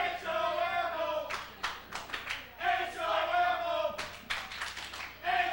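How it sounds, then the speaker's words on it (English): A hostile wrestling crowd jeers Johnny Rage at a UWF show in the Las Vegas compound, with bursts of shouting voices and scattered claps rising and falling in waves. "Crowd really giving it to Johnny Rage here in the early going"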